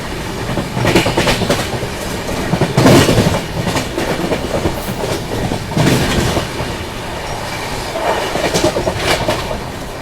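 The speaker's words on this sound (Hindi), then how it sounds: "अभी देखो अपनी ट्रेन स्किप कर रही है धूपगुड़ी रेलवे स्टेशन।" Rajdhani Express with proper Rajdhani coaches rolling through Dhupguri railway station without stopping, a loud continuous rumble of wheels with rhythmic clickety-clack over rail joints and occasional brief squeals throughout.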